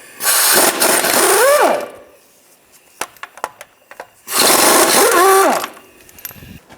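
A power tool with an 18mm socket spins out differential bushing bolts on a 2007-13 Chevy Avalanche in two loud whirring bursts, each winding down in pitch, with faint clicks and metallic taps between them.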